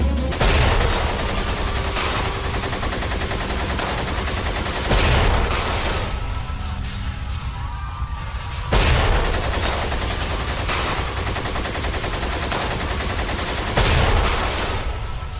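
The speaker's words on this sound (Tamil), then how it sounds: "எங்கும் துப்பாக்கி சத்தம்" Sustained gunfire in a staged dramatic dance performance, with repeated loud bursts and volleys close by, brief lulls between clusters of shots over a dense, noisy background and no talking.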